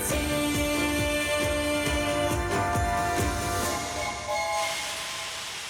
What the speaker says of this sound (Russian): Стучат колеса, тук-тук-тук, мы очень любим этот звук.